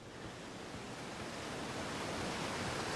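Steady, dense rush of falling water from a waterfall in the Outer Wilds video game, a continuous broadband roar at moderate level with no voices.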